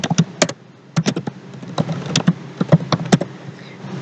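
Keys clatter on a computer keyboard as text is typed, irregular bursts of close, crisp clicks with short pauses between runs, no speech.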